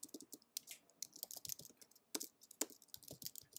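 Rapid, uneven clatter of keys on a computer keyboard while Python code is typed, crisp close keystrokes in quick bursts with brief gaps, no voice.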